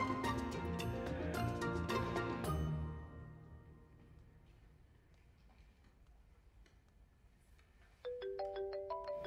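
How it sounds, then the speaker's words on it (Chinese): A mobile phone plays its melodic electronic ringtone loudly for a few seconds, falls quiet, then starts ringing again near the end, with no talk heard. "对不起，我接个电话。"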